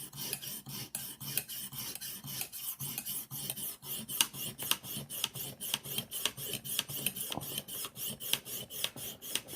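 A Rough Ryder knife is sharpened with a Lansky sharpening system, the hone rasping across the blade in quick, regular back-and-forth strokes, close and fairly quiet, with no talk.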